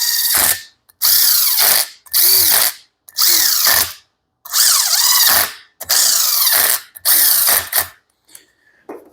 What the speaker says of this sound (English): we're going to cinch them down and then tighten them with a torque wrench